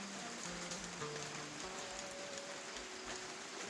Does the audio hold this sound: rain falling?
yes